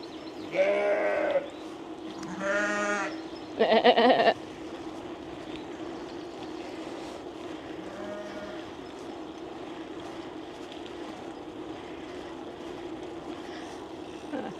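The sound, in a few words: human imitating a goat bleat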